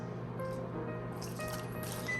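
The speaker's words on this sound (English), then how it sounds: "Now we're gonna pour in our buffalo wing sauce." Buffalo wing sauce poured over oven-baked chicken wings, a soft continuous wet pouring and squishing close by, steady throughout with faint dribbles and no talking.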